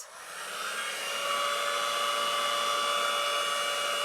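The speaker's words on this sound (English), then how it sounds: "it's best to get you a blow dryer if you can" A hair dryer, used to dry feet, whooshes steadily and loudly, rising in the first second and then holding a constant high-pitched hum.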